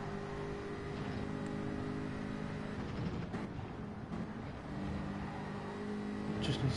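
A GT3 race car engine drones and revs in a sim racing game at Road Atlanta, a steady muffled hum with slight pitch shifts, faint and fairly distant.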